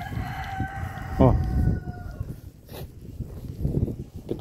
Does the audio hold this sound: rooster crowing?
yes